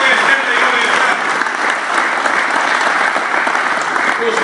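A large audience at a gathering in Posušje with veterans present breaks into loud, dense applause that holds steady throughout, with voices faintly mixed in.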